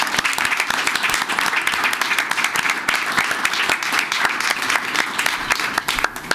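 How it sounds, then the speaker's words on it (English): A council meeting audience gives a sustained round of applause, a dense, even clatter of many hands clapping that carries on steadily throughout. "Would anybody object to a round of applause for recognizing?"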